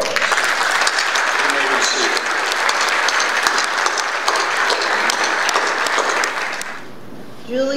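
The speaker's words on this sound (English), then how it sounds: "Let's give them a round of applause." Loud, dense audience applause in a courtroom-style ceremony for newly sworn-in lawyers, sustained for about seven seconds and then cutting off sharply into quiet room tone.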